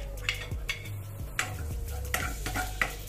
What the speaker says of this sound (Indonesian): Kalau udah panas, yang pertama masukkan bawang putih dulu. Pokoknya bawang putih tuh selalu pertama, biar dia wangi dulu ditumis.